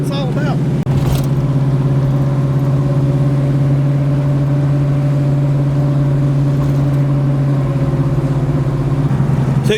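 A 1979 Oldsmobile Cutlass Supreme, a track car running 13-second passes, cruises along with a steady, loud, low engine drone that holds an even pitch from start to finish.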